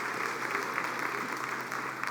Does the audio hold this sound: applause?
yes